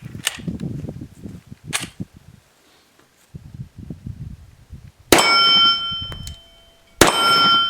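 A Glock 36 pistol fires Blazer ammunition at a shooting range, two sharp loud reports with ringing metallic tails, set apart after stretches of low handling clicks and rustle.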